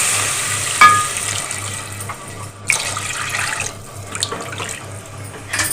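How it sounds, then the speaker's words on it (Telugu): Water pours into a cooking pot holding semolina, with a splashing, gurgling flow close by and a few louder splashes partway through, heard alone without talk. "ఇప్పుడైతే వాటర్ని కూడా ఇప్పుడే యాడ్ చేసేస్తాను"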